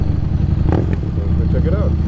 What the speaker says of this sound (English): Just started the bike there in second gear.